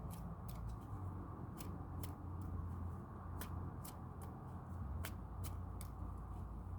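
Tarot cards are shuffled by hand, a quiet run of crisp flicks and slaps in an irregular rhythm over soft low background noise, close and faint with no talking.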